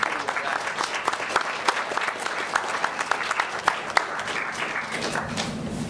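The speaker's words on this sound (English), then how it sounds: "I would just like to have one more round of applause." A steady round of applause from an audience at a school board meeting honoring Hays High student athletes, dense overlapping clapping that stays fairly even and moderately loud from start to finish.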